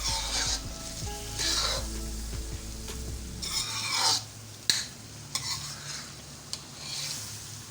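A metal spoon scrapes and stirs butt chicken karahi with black pepper in a hot pan, giving repeated rasping strokes over a steady sizzle, with a few sharp clinks toward the end.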